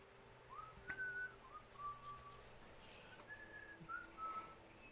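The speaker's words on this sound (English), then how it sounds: "Just hear faint whistling." Faint whistling drifts in as a few short, sustained tones with gaps between them, distant and quiet over a low background hum.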